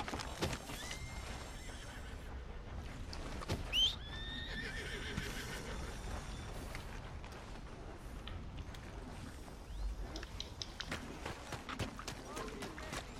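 Horse neighing in the Red Dead Redemption 2 video game, a couple of short whinnies near the start over game ambience, with hoof clip-clop and a voice talking in the background.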